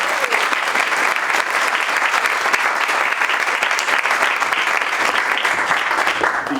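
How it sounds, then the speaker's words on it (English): A University of Aberdeen divinity audience gives a loud, sustained round of applause during a prize-giving, the dense clapping holding steady and even from start to finish. "Or maybe we shouldn't hold our applause."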